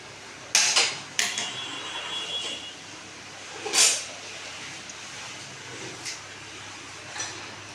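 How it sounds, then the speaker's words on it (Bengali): A gas stove burner being lit in a home kitchen: a few sharp clicks of the igniter, then a soft catch and hiss of gas, quiet and close with no talking. "এবার গ্যাসটা জ্বালি"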